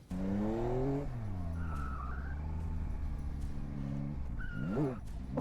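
A video game motorcycle, the Tracer GT, revs and shifts through gears with rising whines, close and steady, with a tire squeal near the end.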